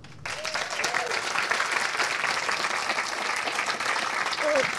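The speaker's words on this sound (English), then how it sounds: "let's have a round of applause for Raj on the" Audience applause for musicians after a morning devotional music performance with harmonium and tabla, sustained and fairly close, with a few faint whoops over the clapping.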